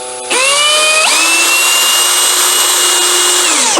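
Einhell TP-CD 18/120 impact driver spinning a tiny screw with the clutch on its first setting, a loud, steady high-pitched motor whine that rises in pitch as it spins up and holds for several seconds.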